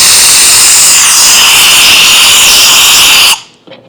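A loud, steady blast of compressed air blows out a Scout dash trim part during restoration, a continuous hiss that holds for over three seconds and then cuts off abruptly, leaving near silence.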